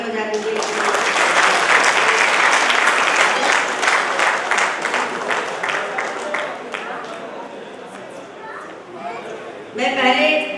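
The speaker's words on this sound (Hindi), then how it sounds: "एक बार तालियां बजा दीजिए।" Applause from an audience at a large Hindi poetry gathering, a dense burst of clapping that tapers off, with voices and a child's speech mixed in near the end.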